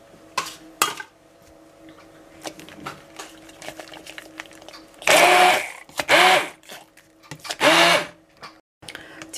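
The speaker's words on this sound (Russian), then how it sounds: "Так как он, видите, хлопьями, я его немного проблендерю." Kitchen blender briefly pulsing cereal-like flakes, several short loud bursts of whirring mixed with clatter of utensils and bowls in a home kitchen, no talk.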